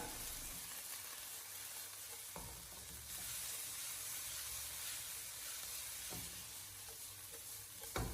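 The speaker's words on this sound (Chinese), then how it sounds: "再把青红椒片重新的回锅，再给它简单的翻炒几下。" Green and red pepper slices being stir-fried in a wok over low heat: a steady, loud oil sizzle and hiss throughout, broken by a few scraping tosses of the spatula, with no voices.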